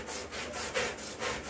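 Pet clipper blade being stroked over fine oiled sandpaper, a close, quiet rasping rub repeated in even strokes about three times a second, with no talking.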